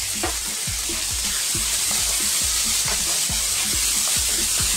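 Italian-style dish seasoned with dried oregano, salt and cracked black pepper frying loudly on high heat, a steady dense sizzle with repeated low thumps and scrapes as the food is tossed around the pan, no talking.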